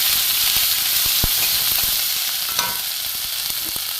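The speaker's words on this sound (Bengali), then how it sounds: "ধনের গুঁড়ো দিয়ে আমি এটা মশলাটা কষবো" A spice paste of cumin powder, coriander powder and grated ginger fries in a pan with a steady bright sizzle, broken by a few sharp stirring clicks and scrapes, close up with no talking.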